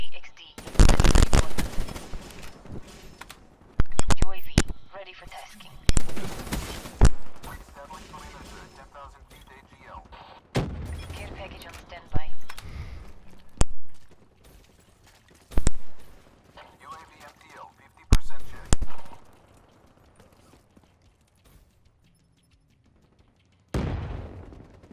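Black Ops 3 multiplayer gunfire comes in sharp, loud bursts of shots spread through the clip, with quieter gaps between volleys.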